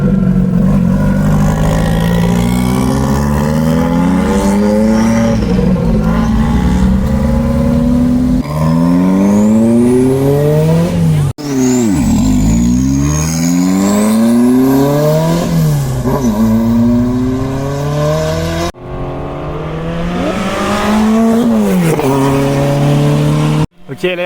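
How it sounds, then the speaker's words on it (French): Turbocharged Renault R5 rally car arriving at a supercar charity gathering, its engine revving in repeated rising sweeps with a whistling turbo, loud and close, while people talk nearby throughout. "la R5 qui arrive"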